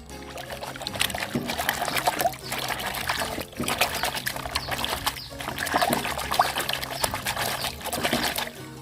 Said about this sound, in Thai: เสร็จแล้วเรานำไปซักในน้ำเปล่ากันเลยครับ